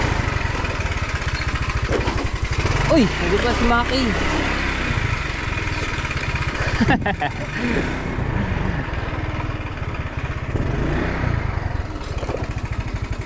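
A parked motorcycle's engine runs steadily in a low, throbbing idle close by, continuing beneath people talking outdoors.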